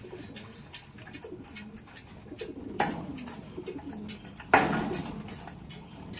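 Racing pigeons coo softly at feeding time, low repeated murmuring calls under scattered pecking, clicks and wing or cage clatter, with a couple of sharper knocks nearby and no talking.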